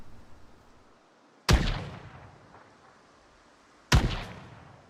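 Two sharp gunshots from an NPC bandit in Project Zomboid, spaced a couple of seconds apart, each a loud crack with a short ringing decay over a quiet background.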